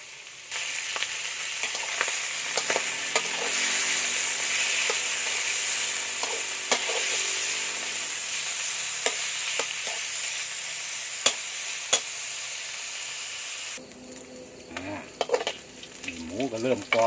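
Thinly sliced pork belly fries in a little oil in a wok, giving a steady loud sizzle with scattered crackles and pops, stirring clatters, and a sharper burst of spitting near the end.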